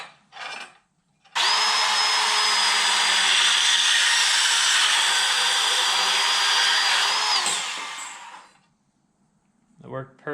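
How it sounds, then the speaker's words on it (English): A small portable bandsaw whines at a steady pitch for about six seconds as it cuts through a rubber radiator hose, then winds down, with brief speech just before and after. "I'm just going to try to cut that with my little portable bandsaw thing here."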